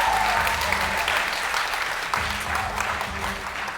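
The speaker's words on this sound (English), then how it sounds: "let's have a round of applause for all of our contestants tonight." An audience at a pitch competition event applauds its contestants, dense steady clapping from a crowd that carries on for the whole stretch, fairly close and even in loudness.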